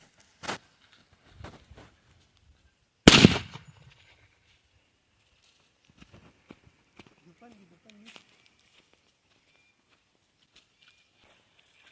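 A firecracker bomb bursts beneath a coconut with one sharp, loud blast near the middle, followed by a fading rumble and scattered faint knocks and rustles afterward; a smaller pop sounds earlier.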